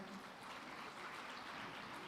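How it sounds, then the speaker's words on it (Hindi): Applause at a women's day honouring ceremony comes as a dense, even patter of many hands clapping, steady but rather faint, over its short length. "जोरदार तालियों से अभिनंदन"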